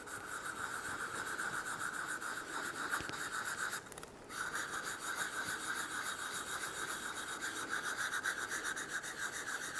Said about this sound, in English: I'll use my fine sanding stick.